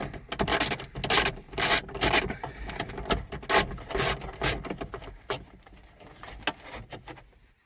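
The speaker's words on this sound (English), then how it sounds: "there's the 4th screw coming out" A screw is backed out of a plastic interior cover on an Acura TL, giving a series of close, scratchy rasping bursts that thin out toward the end.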